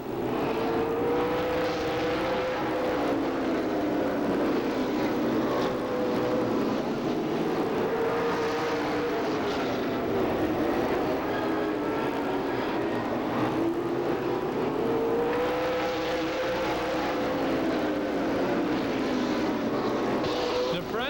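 Stock cars race at Stockton 99 Speedway in a 1997 Tri-Holiday Classic, a loud continuous engine roar rising and falling as the pack of cars sweeps past, steady throughout with no break.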